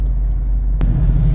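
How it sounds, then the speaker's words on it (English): A Porsche car drives past on the road as a loud, steady engine and tyre rumble, with a brief sharp crack partway through. "there's a guy in a nice Porsche"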